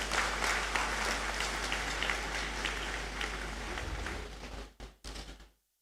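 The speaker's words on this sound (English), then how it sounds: "I think he deserves another round of applause." An audience in a great hall at a university graduation ceremony gives a sustained round of dense applause that tapers near the end and then stops abruptly.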